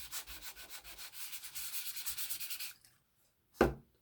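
A hand sand block rubs back and forth in a steady run of close, rhythmic scratchy strokes for close to three seconds, then stops; a single short knock follows after a pause.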